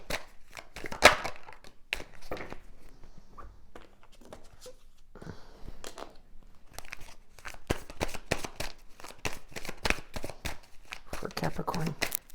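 Tarot cards riffle and slap through a run of quick, crisp shuffles, close and fairly loud, broken by brief pauses while a person talks over them.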